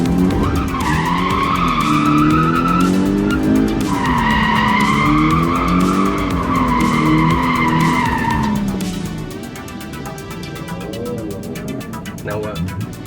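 A car drifting with loud, sustained tire squeal that rises and falls in long wavering sweeps over engine roar, easing off toward the end; a person speaks over it.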